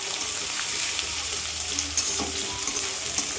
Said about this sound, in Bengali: পেঁয়াজটা একটু বাদামি কালার করে ভেজে নেবো আমি।